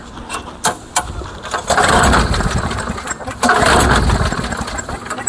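Small lawn mower engine cranking after a spray of carb cleaner, with a few sharp pull clicks, then catching and running in two loud bursts up close.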